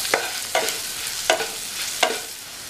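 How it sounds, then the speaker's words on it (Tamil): Beans with chilli powder and spices are stirred in a hot pan, four scraping strokes of a spoon over a soft continuous sizzle. "இது எல்லாத்தையும் நல்லா ஒன்றா கலந்து விட்டுருங்க."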